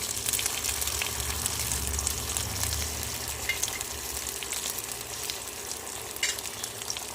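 Tomato paste and chilli paste sizzle and spit steadily in hot oil for a potato curry, a continuous close frying hiss with occasional stirring scrapes and no voices.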